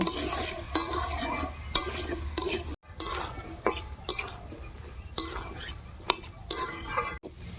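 Carrot and potato pieces stir-fry with salt and turmeric in a pan. A spatula scrapes repeatedly in uneven strokes over a soft, close sizzle, broken by a couple of brief pauses.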